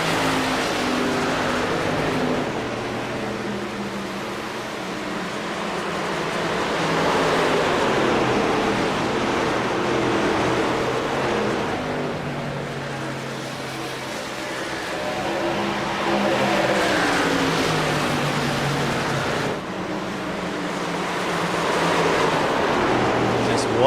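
Race cars circle a track on the final lap of a VSpeed Contender Series event, engines swelling and fading in long waves as the pack passes, under continuous announcer-style talk.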